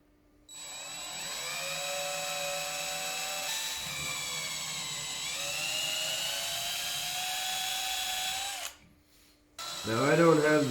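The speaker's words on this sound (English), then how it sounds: "get that drilled up, and we'll get this ice scratcher on" Power drill boring a hole to mount an ice scratcher on a Yamaha Nytro snowmobile, a steady high whine that shifts pitch midway, stops abruptly, then a short revving burst follows.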